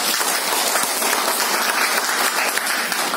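A crowd at a special program on multiple sources of income claps loudly and steadily, a thick wash of many hands sustained for the whole stretch with no talking over it.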